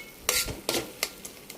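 A spoon scrapes and stirs carrot halwa in a pan in four or five rhythmic strokes, each a gritty swish that fades, close-up over a faint background hum with no talk.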